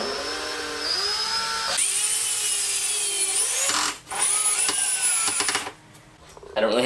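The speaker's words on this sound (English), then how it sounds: "now I'm just gonna screw it in" A power drill whines and strains as it drives screws into wood, in a few bursts with short pauses between.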